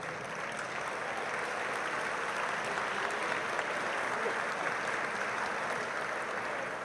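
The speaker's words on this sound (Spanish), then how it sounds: "evento con la senadora Claudia Ríos Massieu, para quien les pido un aplauso de bienvenida." Steady applause from an audience welcoming a senator at a conference event in Mexico, even and sustained throughout without talk over it.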